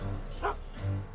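Tiny the dog barks in the Back to the Future Telltale video game, a single short bow-wow followed by a low whimpering yip, close and moderately loud.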